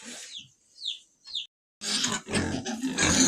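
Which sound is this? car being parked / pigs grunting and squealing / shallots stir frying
pigs grunting and squealing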